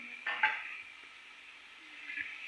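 Chopped tomatoes tumble into a cooking pot of shalgam, followed by a soft sizzle and faint stirring scrapes close by, with no talking.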